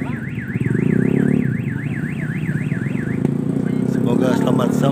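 A loud warbling bus telolet musical horn wails in rapid up-and-down tones for about three seconds over engine rumble at Jatijajar bus terminal, then gives way to crowd noise.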